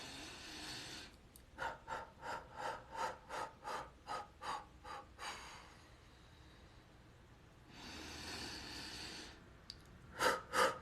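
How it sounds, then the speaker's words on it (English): Rapid rhythmic breaths, about a dozen quick pulses of throat airflow, are followed by a long slow exhale and a few sharp final breaths, close and clear with no talking. "I want breathing exercises for your throat"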